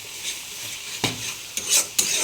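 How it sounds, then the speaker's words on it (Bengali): A spice mix with salted onions for chicken is stir-fried in a pan. Several distinct scraping strokes sound over a continuous close sizzle, with no talk. "আমি একটু হাত লাগিয়ে দিই মশলা কষানোর জন্য।"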